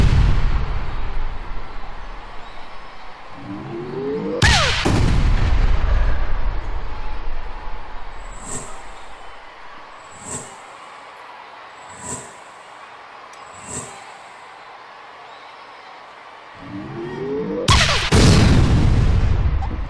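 Rocket launcher fire and explosions in the Worms 2 Armageddon video game: two loud booming blasts several seconds apart, with a few short sharp pops between them.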